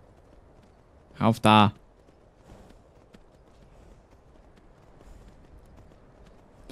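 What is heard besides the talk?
horse hooves clip-clopping in video game Skyrim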